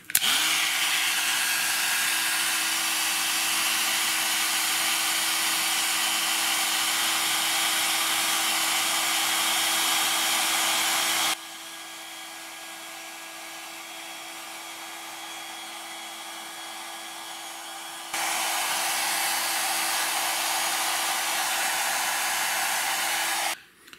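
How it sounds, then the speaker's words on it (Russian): An ordinary household hair dryer blows steadily and loudly, drops to a lower setting partway through, then returns to full power before switching off. "То есть фен обычный, никакой не строительный, и все им ужимается"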